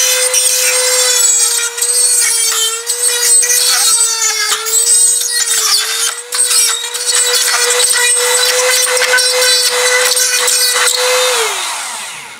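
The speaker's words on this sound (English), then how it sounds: "Drill me here with a tile bit." Close and loud, a power drill with a tile bit grinds steadily through material on a house gable end, holding a constant whine with scraping texture before winding down at the end.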